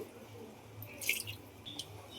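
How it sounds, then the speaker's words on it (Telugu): A small pot of water poured into a pot of mutton biryani made with small meat pieces, a brief soft trickle and drip heard close up with no talking. "ఇప్పుడు ఒక లోట చిన్న లోటాడు నీళ్ళు పోతుంది"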